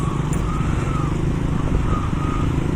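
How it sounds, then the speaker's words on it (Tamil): Heavy road traffic near Sravanapatti in Coimbatore, a continuous close wash of engines and tyre noise with a brief beep early on, with no one talking. "So much traffic."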